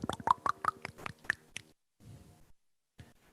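A beatboxer imitates pouring a bottle of water with the mouth, a quick run of rising, wet glugging pops followed by softer breathy mouth noises and a faint click.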